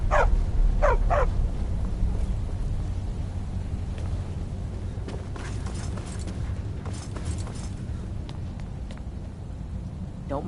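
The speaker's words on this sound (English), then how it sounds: "Don't mind the dogs. They get anxious when they haven't had dinner." Dogs bark in a Skyrim game scene, a few sharp barks near the start, then fainter ones scattered over a steady rainy, rumbling ambient background.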